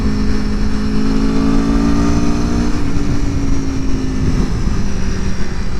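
A 2021 Aprilia Tuono motorcycle ridden in third gear at about 3,000 RPM, with a steady loud engine drone and wind rush heard close up throughout.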